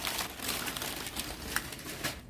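Paper packing material crinkles and rustles steadily while a nail-art subscription box is unboxed, with faint crackling bursts throughout and no talking.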